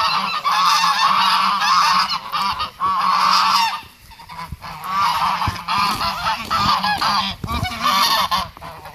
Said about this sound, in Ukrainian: our geese are hanging out around the village, going back and forth